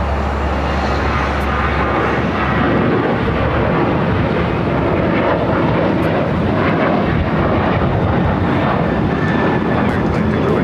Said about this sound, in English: Next takeoff, flight heading to Chicago O'Hare, American Airlines Flight 2608,